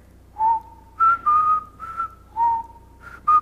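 Luigi whistles a simple tune in a video game's haunted house, with short clear notes in a repeating phrase, loud and close, alone with no other sound.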